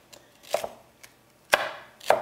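A knife chops food on a cutting board in four separate sharp strikes at an uneven pace, with short quiet gaps between them. The strikes are close and clear, and no one speaks.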